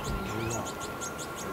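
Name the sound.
ducks and geese on a pond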